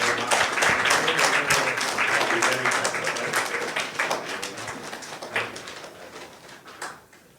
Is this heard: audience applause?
yes